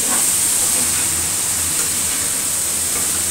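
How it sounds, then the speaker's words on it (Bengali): Cauliflower with Kashmiri red chili fries in a pan with a loud, continuous sizzling hiss as it is stirred, steady and close throughout with no voices. "কপিটা একটু নাড়াচাড়া দিচ্ছি"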